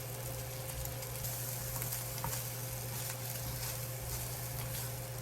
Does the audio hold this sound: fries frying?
yes